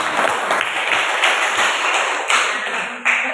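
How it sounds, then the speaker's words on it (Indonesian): A classroom of students applauds a classmate after her presentation, a dense, steady patter of many hands clapping together, loud and close, with a few brief thumps near the end. "tepuk tangan buat Ewi"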